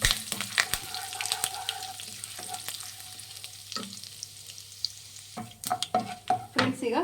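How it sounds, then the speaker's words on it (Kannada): Mustard seeds, cumin, curry leaves, urad dal and chana dal frying in oil over a low flame for aloo bonda, a soft continuous sizzle with sharp pops and crackles, plus clinks of stirring growing busier toward the end. "ಲೋ ಫ್ಲೇಮಲ್ಲಿ ಇಟ್ಟು ಫ್ರೈ ಮಾಡಿ ಇದನ್ನು"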